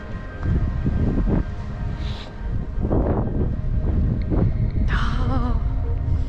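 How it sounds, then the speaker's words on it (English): Strong wind buffets the microphone at the summit of Mount Batur, an active volcano in Bali, a steady loud rumble with gusts throughout and brief voices in the background. "Ooh, windy."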